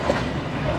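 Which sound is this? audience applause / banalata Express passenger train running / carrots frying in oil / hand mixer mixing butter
banalata Express passenger train running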